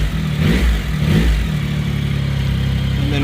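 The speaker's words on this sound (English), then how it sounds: "just give it a little bit of a rev." A 2025 Yamaha R9 motorcycle engine blips its throttle during a throttle body sync, two quick revs rising and falling in the first second and a half before it drops back to a steady, close idle.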